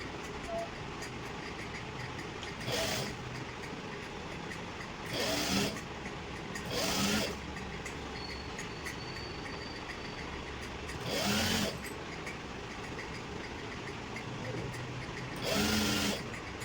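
Sewing machine stitching a waistband belt onto trousers in a tailoring boutique, running in several short bursts of a few seconds each over a steady background hum, with a voice talking throughout.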